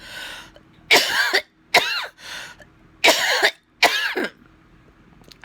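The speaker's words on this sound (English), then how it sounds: "There's nothing sexier than trying to suppress a cough and talk." Someone sick with Covid coughs hard and close by, in about five harsh, raspy bursts grouped into two clusters, with quiet pauses between them.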